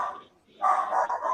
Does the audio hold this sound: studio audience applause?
no